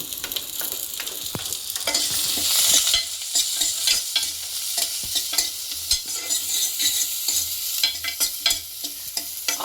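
Onion frying and being stirred in a little oil with cumin, mustard seeds and curry leaves, a steady close sizzle with scraping stirs and small crackling pops throughout, no voices.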